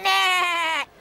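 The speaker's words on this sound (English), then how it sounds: "That's a sheep." A cartoon sheep gives one clear, loud, wavering bleat close up, lasting nearly a second before cutting off.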